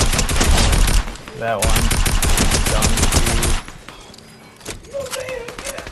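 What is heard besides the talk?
tactical rifle gunfire in Fortnite video game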